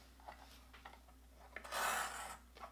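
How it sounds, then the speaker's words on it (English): A WRMK tab punch board trimming cardstock gives a brief, near scraping rasp of blade through paper, preceded by a few small soft clicks and taps. "trim off our cardstock on both sides"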